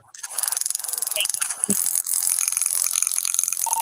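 A police taser deployed during an arrest crackles with fast, loud, continuous clicking for several seconds, a harsh ratcheting rattle heard up close.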